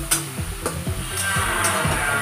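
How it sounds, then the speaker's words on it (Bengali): Finely ground onion paste sizzles in a hot pan as it goes in, a steady close frying hiss with a few light stirring scrapes and clicks and no talk. "এবার আমি পেঁয়াজ বাটাটা দিয়ে দেবো, একটু মিহি করে বেটেছি আমি এটা।"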